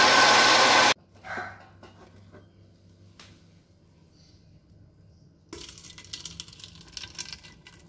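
A blender grinds soaked rice with only a little water into idli and dosa batter, a loud motor whir that cuts off abruptly after a second, then returns as a steadier, moderate grinding hum toward the end.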